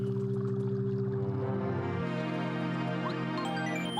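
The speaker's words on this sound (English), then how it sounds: "That's the sound of us approaching a boss fight castle." In the Paper Mario video game, a layered tonal sound plays as the player approaches a boss fight castle. It holds steady, then shifts partway through with bright rising blips, and no one talks over it.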